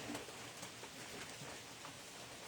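Steady rain falls outdoors around a painter's easel, a dense even patter of drops on surfaces with no voices, constant and moderately near throughout.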